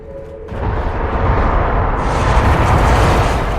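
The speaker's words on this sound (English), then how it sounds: "Explosions in an underground ruin." Explosions rumble through an underground ruin in the fantasy game Dragon Age Inquisition, a sudden loud blast rolling into a sustained, thundering roar with no talking.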